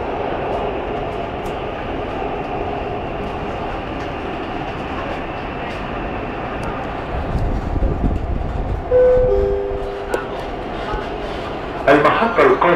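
Dubai Metro train running, a steady rumbling roll with rising wheel noise and squeals toward the end, heard from inside the car with faint voices.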